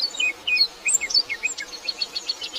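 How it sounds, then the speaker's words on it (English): A painted bunting sings in North American forest or grassland, a rapid sequence of high, sweet chirps and warbled notes repeated over a soft insect hum, fairly close and clear. "one of the world's most colorful songbirds, the painted bunting"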